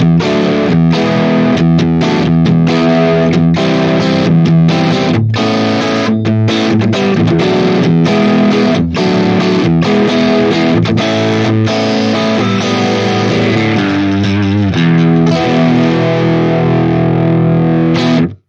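An Ibanez RG-421 electric guitar plays through a vintage Marshall Master Volume 50 amp, giving loud, distorted chords and riffs with rhythmic chugging and sustained notes, continuous and up close.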